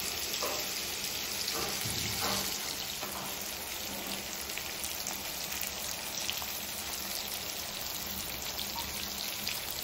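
Dry fish fry in a pan with a dense, continuous crackling sizzle that stays steady and close throughout, with no talk.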